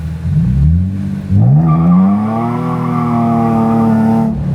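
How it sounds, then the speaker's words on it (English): A Nissan 350Z fitted with a cheap aftermarket exhaust and big tires revs hard and spins its wheels on pavement, its loud, rising engine note climbing twice in close, continuous bursts with no talking. "Let's see if it'll spin them with these big tires now."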